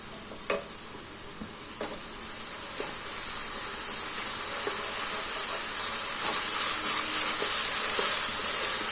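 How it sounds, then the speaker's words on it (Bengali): Chopped garlic frying in oil, a steady high sizzle that grows slightly louder over time, with a few faint clicks of stirring scattered through it. "রসুন কুচিটা কিছুক্ষণ ভাজবো।"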